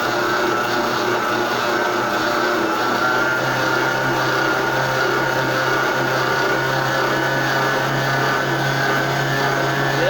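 A stand mixer kneads bread dough at speed, a loud, steady motor whir and churning that runs unbroken throughout without talk.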